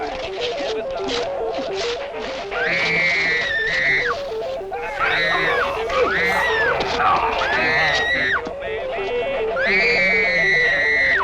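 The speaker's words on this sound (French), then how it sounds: "ces cris sont insupportables!" Women's horrified screams from the monster film Frankenstein Meets the Space Monster: several long, shrill, wavering cries in close succession, loud and near, layered over a steady pulsing music score throughout.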